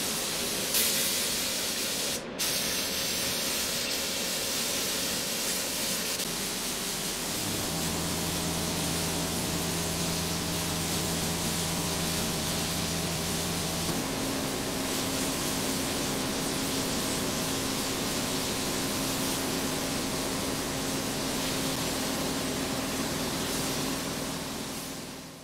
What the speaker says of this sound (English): I'm clear coating all of the panels except the tail unit